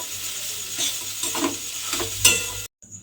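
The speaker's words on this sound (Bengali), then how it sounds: "দিয়ে আলুটাকে মশলার সঙ্গে খুব ভালোভাবে মিশিয়ে নিতে হবে।" Grated potato being stirred and mixed with spices in a pan for a snack filling, giving a steady close scraping and soft sizzle with brief louder strokes before it abruptly cuts to near silence.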